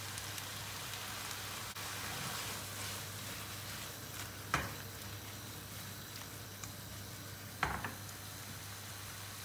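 Sautéed meatballs sizzling in tomato sauce in a pan, a steady soft crackling hiss with a low hum underneath and a couple of brief clatters, fairly quiet and without talk.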